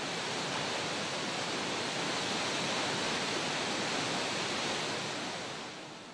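Waterfall at a Kumano mountain shrine, a steady, dense rush of falling water filling the whole span, loud and unbroken with no voices, easing slightly at the very end.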